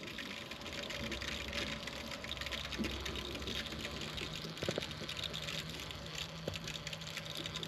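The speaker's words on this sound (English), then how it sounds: "Lots of air bubbling around." Steady rushing, gurgling water flow with a continuous low hum, water filling underfloor heating pipes with air bubbling through, holding at an even moderate level throughout.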